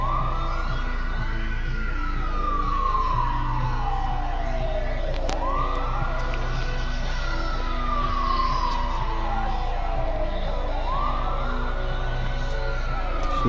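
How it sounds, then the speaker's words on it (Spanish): An emergency siren in the racing video game Dangerous Driving, wailing steadily up and down in long repeating sweeps over a constant low engine drone, with no talk. "el sonido de la sirena"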